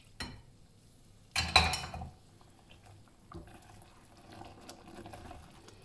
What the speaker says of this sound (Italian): Continua, come sentite, a bollire, ma il nostro caramello salato è pronto.